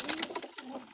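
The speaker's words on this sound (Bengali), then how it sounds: "এই যে আমার কিছু সাকি কবুতর" Saki pigeons give soft, rounded coos in short repeated bursts, close by and fairly quiet, with no talking over them.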